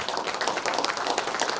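Steady applause from an audience at a poetry literature festival, dense overlapping claps sustained throughout without pause.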